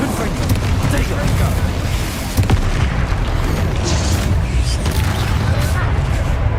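Confringo fire spell exploding in Hogwarts Legacy, a loud, close burst inside a steady roar of game noise, with a sharp crack a little past two seconds and a voice over the din.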